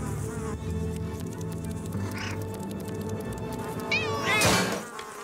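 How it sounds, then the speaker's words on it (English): Stray cats meow and yowl repeatedly in a cartoon, giving several rising and falling cries, with one loud caterwaul near the end, over a busy musical background with insect-like buzzing. "Leo Louse, picking on these poor stray cats."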